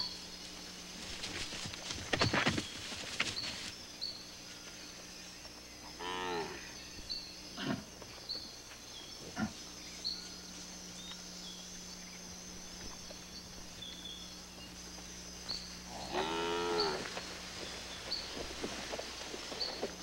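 Cattle on a rainforest ranch low in long, deep moos, one around six seconds and another near sixteen seconds, over a steady background of insects and birds, with some nearby knocks and rustles.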